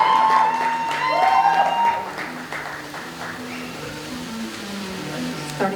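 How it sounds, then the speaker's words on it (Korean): A crowd at an Avengers photo event applauds as guests are invited onto the stage. The applause is scattered and sits under a tonal announcement-like sound and loud ambient noise, then fades to a softer murmur. "Please give them a warm round of applause."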